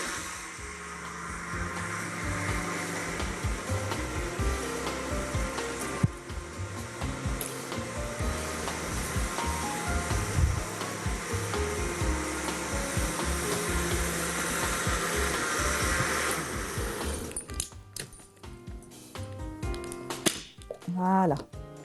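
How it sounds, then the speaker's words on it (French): A kitchen blender whirring loudly and steadily as it purées spinach or celery soup a second time, the motor humming for about seventeen seconds before winding down with rattling stops. "quand il s'agit de soupe avec des fibres, que ce soit des épinards ou des céleris, alors c'est bien de mixer une seconde fois"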